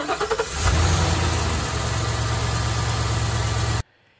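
A Ford F350 with the 7.3-litre Godzilla gas V8 cranks over in a few quick pulses, catches, and settles into a loud steady idle that cuts off abruptly at the end.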